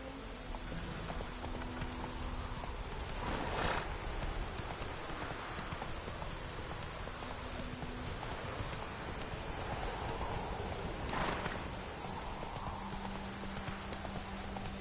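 Horse hooves gallop in The Witcher 3, a steady rapid clip-clop beat running throughout over a rain-like wash of ambient sound, with no talking.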